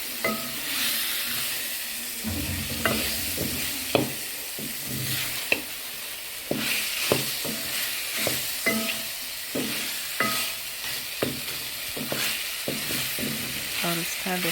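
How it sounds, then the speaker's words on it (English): Pork frying in a sufuria with tomatoes and onions, a constant sizzle broken by repeated scraping and clinking strokes of stirring, close and moderately loud. "I will stir the pork."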